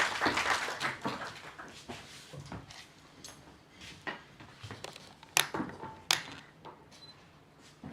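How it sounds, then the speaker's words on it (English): Light, scattered clapping from a seminar audience at an afternoon Systems Day session, faint and uneven, with sparse sharp claps and some clinking like cups or dishes in the room. "we can have another round of applause"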